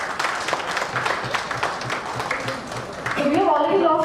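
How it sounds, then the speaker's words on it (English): Applause from the crowd at a corporate cricket league player auction, scattered clapping mixed with voices and a loud amplified voice, swelling near the end. "let's start off with a good round of applause for each one of you for being here tonight"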